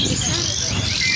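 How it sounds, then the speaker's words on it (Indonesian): Birds chirp and coo at a bird market in Malang, a brief busy burst of calls with a voice talking over them. "Ini pasar burung guys."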